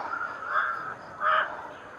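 A crow caws twice at an evening outdoor spot, two short, harsh calls about a second apart and moderately close, with a quiet background between them.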